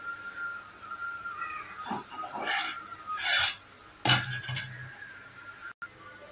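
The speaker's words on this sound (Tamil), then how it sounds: "இப்போ ஸ்டவ் ஆஃப் பண்ணிவிட்டு மாவில் இதை கலந்துக்கலாம்." Black kavuni rice kuzhi paniyaram batter being mixed by hand with a cooked onion and asafoetida seasoning, giving a few short scraping, rasping strokes in a kitchen, with faint background tones and no talk.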